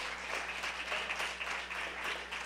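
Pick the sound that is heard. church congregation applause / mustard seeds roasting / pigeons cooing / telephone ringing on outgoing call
church congregation applause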